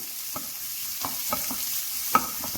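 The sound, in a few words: sautéing chopped garlic in a pan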